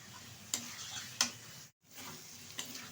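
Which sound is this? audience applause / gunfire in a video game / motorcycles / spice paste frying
spice paste frying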